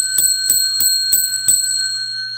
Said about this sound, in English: You get 10 rings of the bell for that.